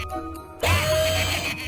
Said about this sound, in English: Chainsaw uppercut.